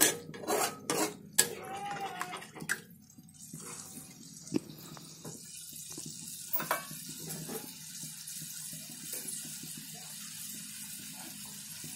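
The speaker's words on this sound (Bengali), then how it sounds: "আর এখানে সরিষা বাটা জল, বাটি ধোয়া জল একটু দিয়ে দেবো, হালকা একটু নাড়িয়ে চাড়িয়ে।" Water rinsed from a mustard-paste bowl splashes into a pan of hilsa curry, with clinks of the bowl and pan and a brief trickle, then a few quieter scrapes as the pot is gently stirred.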